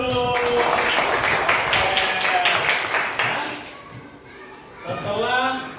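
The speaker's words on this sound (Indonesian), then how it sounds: "Yang semangat, tepuk tangan dulu." Children in a classroom clap their hands in a quick rhythmic run together with loud chanting voices. The clapping fades toward the end as talking continues.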